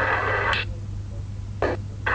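Marble moves in the iPad board game Stone Solitaire make short, soft clicking taps, three of them spaced apart over a steady background hiss.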